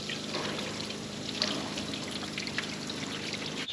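Water pours and trickles steadily through a machine part, rinsing out red rusty debris before reassembly, a continuous splashing flow with no voices.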